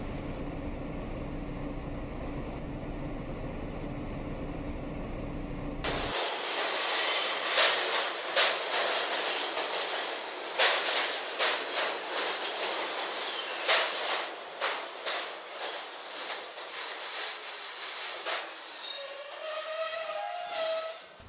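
A train rolls along steadily in a radio drama, with rattling, clacking wheels and a high metallic squeal near the end. No voices.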